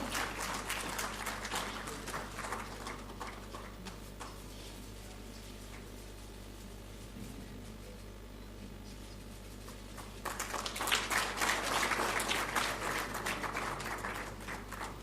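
Applause from an audience at the 7th National Photography Awards ceremony, a steady patter of clapping throughout that swells louder and fuller near the end, with a calmer stretch in the middle.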